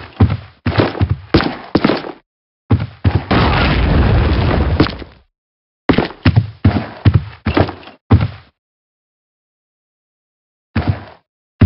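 An enemy grenade in a Call of Duty mission at Pavlov's House bursts in a loud, close blast with a sustained roar. It is surrounded by sharp, punchy thuds and pops from gunfire and impacts, with gaps of silence between them.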